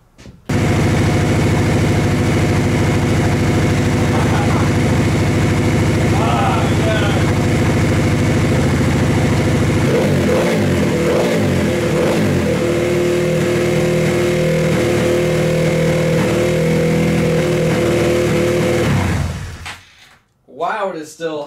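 Honda Grom motorcycle engine, smoking and cold, running at a steady high idle with a constant drone throughout, some clattering mechanical noise midway, before cutting off near the end.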